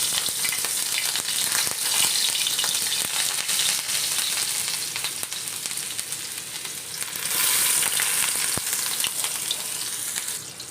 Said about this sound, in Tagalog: Gisa natin una ay onion.